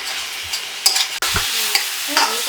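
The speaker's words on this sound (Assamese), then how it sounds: "এতিয়া অলপমান ভাজি ল'ম।" Vegetables frying with tomatoes in a pan, a steady close sizzle with scraping stirring strokes throughout, no voices.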